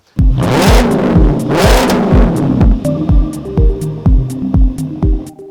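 An Audi S5 with a custom exhaust revs hard twice with a loud, raspy exhaust roar, then settles into a lumpy, burbling idle with short blips, close by.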